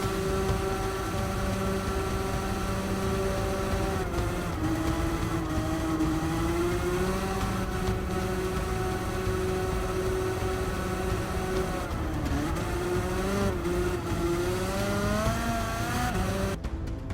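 A shifter kart engine in the Gran Turismo 7 racing game drones continuously, its buzzing pitch rising and dipping with throttle and gear changes through an unbroken run.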